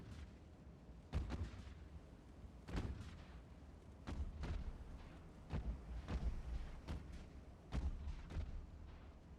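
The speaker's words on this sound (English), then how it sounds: "There is the gunfire." Heavy naval guns in the game Ultimate Admiral: Dreadnoughts boom repeatedly at irregular intervals, each blast a deep thud over a rumbling background.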